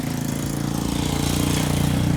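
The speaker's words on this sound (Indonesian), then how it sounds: "Jadi kita tekan. Mobilnya hidup." A car engine runs close and loud with a steady, even rumble just after being started with a jump-starter power bank.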